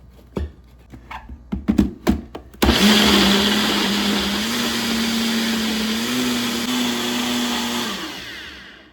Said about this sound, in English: And I'm going to blend this.